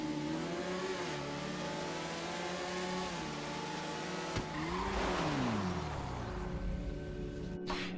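Nagasaki Shinobi motorcycle in GTA Online with its engine revving loudly and steadily, the pitch rising and falling through gear changes over several seconds, and a brief tire squeal midway.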